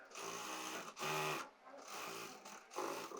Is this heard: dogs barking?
no